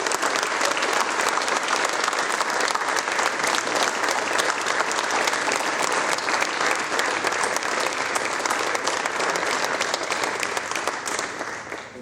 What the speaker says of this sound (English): Please give them all another huge round of applause.